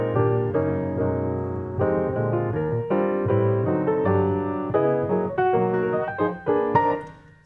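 Solo piano playing a melody, a clear, close, moderately loud run of chords and moving single notes, tapering off at the end.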